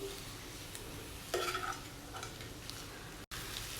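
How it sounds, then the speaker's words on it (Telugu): Shredded cabbage coated with peanut powder fries in a pan and is stirred, with a steady soft sizzle and a few scraping stirs partway through, close and moderately quiet, without any talking. "పల్లీ పౌడర్ యాడ్ చేసిన తర్వాత ఒక 2 మినిట్ ఫ్రై చేసుకుంటే సరిపోతుందండి"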